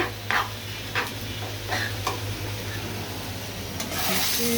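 Leafy greens frying in a pan make a low steady sizzle with occasional light stirring scrapes and clicks, close by and moderately quiet, growing slightly brighter toward the end.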